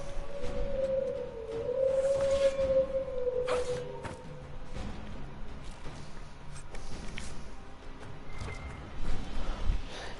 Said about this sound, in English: You know it's done when you hear the wolves howl.